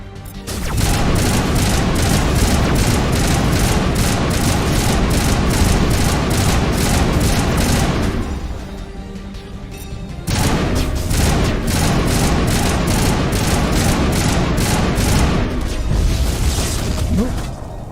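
Sustained rapid gunfire from a Mass Effect battle against Geth, loud and dense with repeated sharp bursts, dropping briefly to a quieter lull midway before the shooting resumes; a voice talks faintly underneath.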